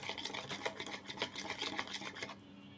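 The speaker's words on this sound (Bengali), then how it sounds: "ডিম আর চিনি আমি এখানে ভালোভাবে ফিটিয়ে নেব।" Eggs and sugar beaten by hand with a whisk in a bowl while making semolina fritters, a steady fast scraping rasp that runs continuously and fairly close for a few seconds, then stops, with no talk over it.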